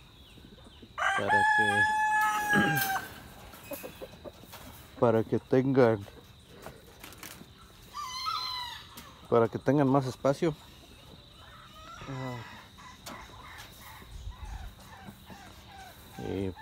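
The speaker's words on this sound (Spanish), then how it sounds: "puse aquí todas las gallinas juntas con un solo gallo" Hens kept together with a single rooster in a cage, with a rooster crowing near the start and scattered clucks later, over a steady insect chirr while someone talks at intervals.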